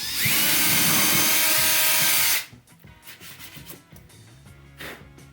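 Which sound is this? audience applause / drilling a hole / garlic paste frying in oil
drilling a hole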